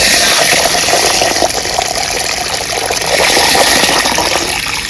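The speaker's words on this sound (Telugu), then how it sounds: "బియ్యం ఇలా శుభ్రంగా 2 సార్లు కడుక్కొని నైట్ అంతా నానబెట్టుకుందాం." Rice being washed by hand in water, a loud, close, continuous swish and slosh of stirred grains and splashing liquid, steady for several seconds without talk.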